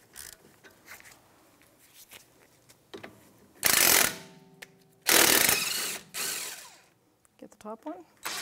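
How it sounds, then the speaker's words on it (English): A power tool with a 17 mm socket breaks free the caliper slider bolt on a 2011–2019 Ford Explorer's front brakes, sounding as two loud mechanical whirring bursts between quieter clicks and handling noises. "We're going to break this caliper slider bolt free."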